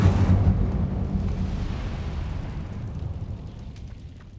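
Incendio fire spell cast in Hogwarts Legacy, a loud fiery burst at the start that rolls into a long rumbling, crackling roar and slowly fades over several seconds.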